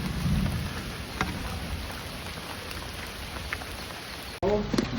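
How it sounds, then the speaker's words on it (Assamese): Heavy rain pours in the mountains near Tumjang Peak and village, a steady, dense hiss filling the air, with a brief break near the end before it returns louder. "বহুত বৰষুণ দি আছে"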